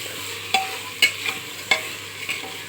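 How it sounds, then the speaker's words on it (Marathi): A spoon stirs rice and dal into fried onion, tomato, chili, turmeric and salt in a pan for khichdi, giving four distinct scraping strokes over a soft sizzle. "त्याच्यामध्ये आता मी तांदूळ डाळ टाकते. सर्व मिक्स करून घेऊया."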